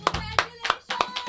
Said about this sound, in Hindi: ताली बज रही है, कौन है? ये ताली बजा रहे हैं ना सर